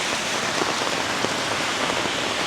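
A steady, heavy rain downpour in downtown Toronto hisses and patters loudly on nearby surfaces, continuous and even, with no talking.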